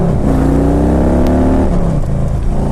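A Harley touring motorcycle with 37,000 miles revs hard close by, the engine rising in pitch through a quick blip before dropping back to a lumpy idle, loud and continuous with no talking.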